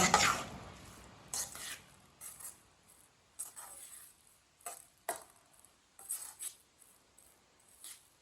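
Spoon stirring moong dal with tomatoes in a cooking pot, a series of short scraping, rasping strokes in irregular bursts, fairly faint and close, with no talking.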